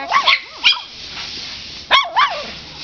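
Small yips and whimpers from a black and white Cavalier King Charles Spaniel puppy in a litter, a few short calls close to the microphone with a quiet pause between them.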